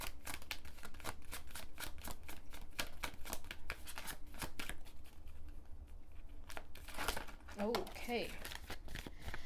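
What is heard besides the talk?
shuffling and pulling oracle cards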